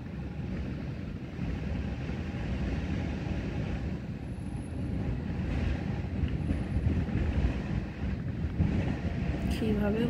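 Strong wind buffets the microphone in a steady low roar while river launches pass nearby, their engines and churning water rumbling beneath the gusts throughout.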